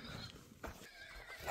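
A four-year-old horse gives a short, close neigh amid a quiet outdoor background, with a soft thud of movement.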